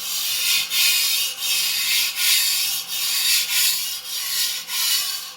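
An antique Dufresne and Co. chef knife is stroked over a hard 400 grit whetstone in steady, rhythmic rasping passes, roughly one every 0.7 seconds, close and clear with no talk.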